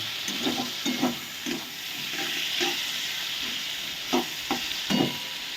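Masala spices fry in oil in a pan for a fish-head and cabbage dish, with a constant hiss and repeated scraping stirs of a spoon at a close, moderate level.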